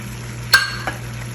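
Four tomatoes dropped into a hot pan of lamb dish cooking: a sharp splash followed by a soft stir and a brief sizzle over a steady low hum.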